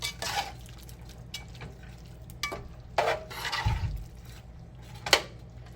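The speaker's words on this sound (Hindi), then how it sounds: "इसे मैं मिक्स कर लूँगी सारा मसाला" Crushed red chilies being stirred into masala in a karahi, with scraping and clinking of a spoon against the pan over a soft background sizzle. The bursts of stirring come in irregular strokes.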